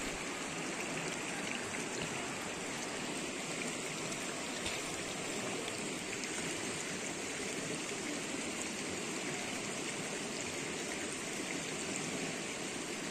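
A clean, clear river in the countryside flows steadily, a constant rushing and trickling wash that stays even from start to finish with no voices.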